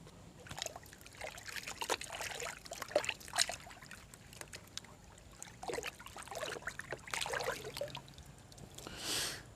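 Probiotic powder for fish being stirred into water, giving soft, irregular liquid trickles and sloshing splashes throughout, fairly faint and close, with no talking.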